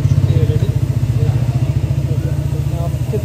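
A motorcycle engine idles close by with a steady rapid pulsing thrum and a slight extra noise from the engine, running evenly throughout without any talk.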